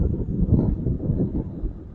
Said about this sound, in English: So it's pretty windy, so if you can hear a bunch of wind